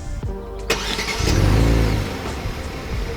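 A 2022 Kia Stinger GT2 AWD engine cranks and starts up nearby by remote start, revs briefly, then settles into a steady idle.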